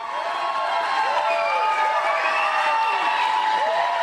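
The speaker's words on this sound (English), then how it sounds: "I don't think he can hear us because the crowd's so loud" A dense crowd roars and cheers continuously at Kid Rock's steakhouse opening, loud and sustained throughout, with rising and falling whoops and shouts layered over the mass of voices.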